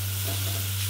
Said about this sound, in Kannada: ಸೊ ಅಂಟದಾಗೆ ಚೆಂದ ಸ್ಟೇರ್ ಮಾಡಬೇಕು